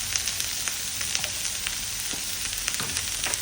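Capsicum sautéing in a pan gives a steady, close sizzle with scattered small crackles and pops, continuing evenly throughout with no voices.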